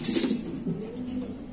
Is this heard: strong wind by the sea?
no